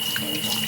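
A tap runs steadily into a sink during a face wash, a close, continuous stream of water with no talking.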